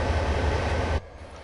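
A long freight train rumbles steadily on the Cajon Pass in Train Simulator, a dense, loud rolling roar that cuts off abruptly to quieter background after about a second.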